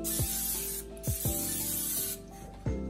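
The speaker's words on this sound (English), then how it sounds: "So I'm gonna get some all-purpose cooking spray." Several short bursts of all-purpose cooking spray hiss from a can onto a pan, spaced about a second apart, close and fairly loud with no voices.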